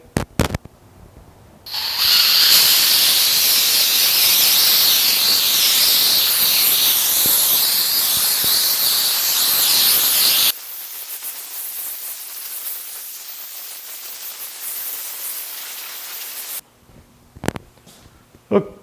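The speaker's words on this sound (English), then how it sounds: "So I'm going to grab the air hose." An air hose blasts a loud, sustained hiss while blowing off 1950 Chevy truck fenders before painting, followed by a quieter, steadier airflow and brief clicks and knocks at the start and end.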